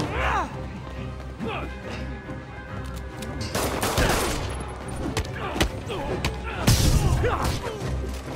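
Gunfire from henchmen in the Marvel's Spider-Man video game, scattered shots mixed with crashes and thuds of a brawl, under shouting voices.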